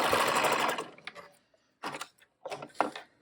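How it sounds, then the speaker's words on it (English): A serger stitches the back crotch seam of a pair of shorts in a fast, whirring burst, then pauses and runs in two shorter spurts, close and fairly quiet. "now I've got my back crotch seam serged"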